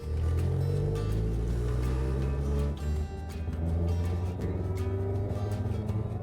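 A car engine runs steadily at close range with a deep, gurgling rumble, its tone dipping briefly midway before settling back to a constant drone.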